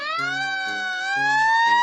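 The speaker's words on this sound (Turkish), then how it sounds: "Bu bir itfaiye kamyonu." A fire truck siren wails with a steady, rising tone that grows slightly louder over about two seconds, heard clearly on its own with no talk.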